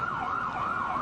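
Police cars passing in a Christmas parade, a loud wailing siren sweeping up and down in pitch, steady and fairly close.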